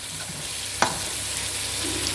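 Carrots drop into a hot pan in a home kitchen, sizzling steadily and close with a brief clatter as they land, the frying hiss continuing evenly throughout.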